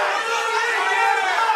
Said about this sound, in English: the crowd is going nuts behind me